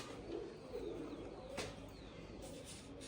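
Pigeons settled on a rooftop loft, soft low cooing repeated a few times over a faint background hum.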